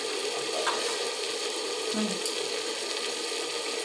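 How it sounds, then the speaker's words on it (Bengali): Masala sizzling steadily as it is sautéed in a pot for handi mutton, a dense continuous fry hiss with a few faint scrapes of stirring, close and unbroken, no voices. "এভাবে আমি কষিয়ে নিচ্ছি।"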